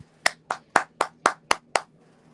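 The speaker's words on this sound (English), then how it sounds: "A round of applause." Seven crisp hand claps ring out at an even, deliberate pace, close and distinct against a quiet background during a sermon-style talk.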